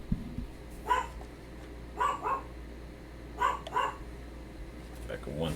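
A dog named Dipper barks indoors in short doubled bursts, several moderately loud yaps spaced a second or so apart over a low room hum.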